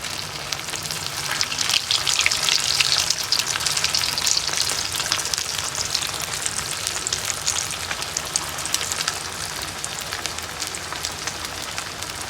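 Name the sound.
frying food pieces in a pan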